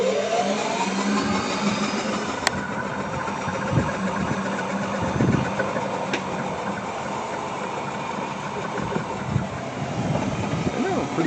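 A 1990 Club Car golf cart runs after the accelerator is pressed, giving a steady, close motor drone with faint whine and rattle that holds evenly throughout, with a couple of sharp clicks.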